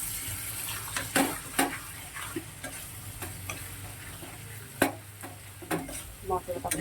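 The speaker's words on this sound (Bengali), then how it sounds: "মশলাটাকে খুব ভালো করে কষিয়ে নেব।" Spice paste, including ground cumin, stir-fried in a pan with scattered scraping and clacking of a utensil over a soft sizzle, close and moderately loud, with irregular stirring strokes.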